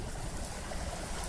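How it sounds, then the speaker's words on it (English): Heavy rain pours down in a dense, steady wash of hiss with no breaks, close and even throughout the short stretch, with no voices. "It's so pouring really bad."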